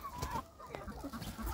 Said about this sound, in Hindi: ये आ चुके हैं अपने सारे मुर्गे